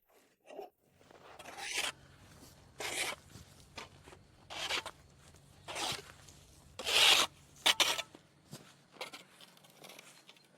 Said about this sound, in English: the sound of the broom sweeping, swish, swish, steadily against the hexagonal tiles